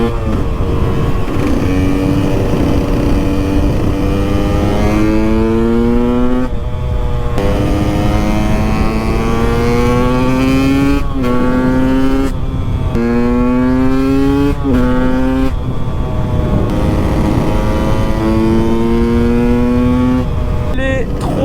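KTM 125 EXC two-stroke dirt bike ridden along coastal roads, its engine revving up and down through repeated gear changes, loud and close the whole time with some wind noise.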